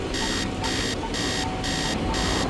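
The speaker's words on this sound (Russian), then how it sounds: "Давайте еще послушаем сигнал светофора." Audible signal of a pedestrian traffic light: a loud, steady electronic beep tone repeating in even pulses about every half second, clear and close over a broadband street hum.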